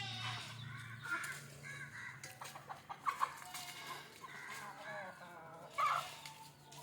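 Free-range country chickens and a rooster clucking and calling intermittently at moderate distance, several soft bursts scattered over a steady low hum, with faint voices in the background.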